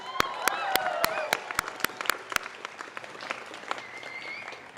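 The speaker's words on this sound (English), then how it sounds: "Loud round of applause." Applause at a graduation ceremony: a crowd claps steadily with some sharp, closer individual claps standing out, voices and cheers mixed in, tapering off toward the end.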